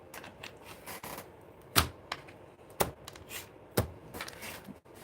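A deck of tarot cards being shuffled by hand, giving soft riffling with a few sharper slaps and taps at irregular moments, close and quiet with no voices.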